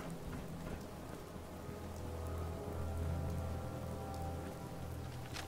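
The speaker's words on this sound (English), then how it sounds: "Damn, it's raining." Steady rainfall in the post-apocalyptic game Fallout 4, a dense continuous hiss of rain on surfaces with a low rumbling undertone like distant thunder, heard alone without voices.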